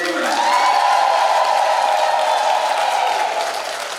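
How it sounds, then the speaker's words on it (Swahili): A church congregation at a thanksgiving Mass for a priest's ordination breaks into sustained, loud clapping that fills the space and tapers slightly at the end. "Tunapaswa tuwapigie tena makofi mengi."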